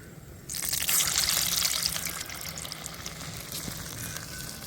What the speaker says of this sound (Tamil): அப்படியே ஒன்று ஒன்றா எல்லா வடையும் போட்டு நம்ம பொரிக்கணும்